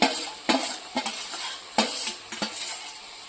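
Chopped green onion and green garlic are stirred into hot spiced oil, a loud sizzle broken by regular spoon scrapes and knocks against the pan about every half second, close and without speech.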